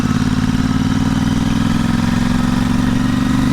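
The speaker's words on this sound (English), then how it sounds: "It's still obviously quite a loud exhaust, but it's not hideous, not particularly obnoxious." Royal Enfield Interceptor 650 twin idling steadily through a Short Shot exhaust with removable baffles, giving a loud, deep, even burble that holds constant throughout with no voices.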